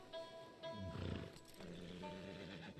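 Horse in the Red Dead Redemption video game, a brief neigh or snort rising mid-clip over a steady game background hum, fairly quiet overall.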